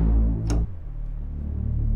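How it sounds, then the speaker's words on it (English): A deep, rumbling Reese bass synth from the Razor synthesizer, played loud and alone, with a resonance-free low-pass filter sweeping down so the tone turns dark and muffled after a brief bright burst. "I'm going to use a low-pass filter here, no resonance, so sounds something like this when I bring it down."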